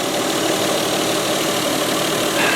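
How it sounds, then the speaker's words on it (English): A Mazda 626 engine idles steadily after fitting new pulleys and drive belts, a close, even mid-range hum with a smooth, continuous rumble and no talk over it. "Engine is running beautifully."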